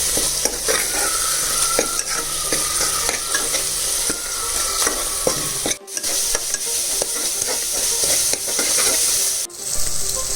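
Chilli powder, turmeric and salt being stirred in a hot curry pan for a cowpea curry, a constant loud sizzle broken by repeated spoon scrapes and taps, without speech.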